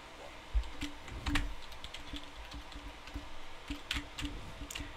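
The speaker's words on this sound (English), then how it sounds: "Hopefully it doesn't pick up my keyboard too bad." Computer keyboard typing during For Honor gameplay, a steady patter of light clicky keystrokes with occasional louder taps, close to the mic and without speech.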